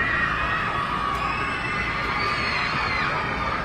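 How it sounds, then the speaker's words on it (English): Spectators at a Braintree versus Natick high school boys basketball game roar and shout to distract a free throw shooter, a dense, sustained, loud gym crowd din with scattered higher yells throughout. "Crowd trying to do their best to make the player miss."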